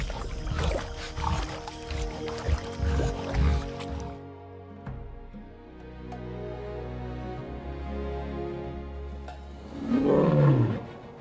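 A lion on the savanna lets out a deep, swelling roar near the end, rising over sustained, layered tonal music that fills the rest of the stretch after a busier, cluttered opening.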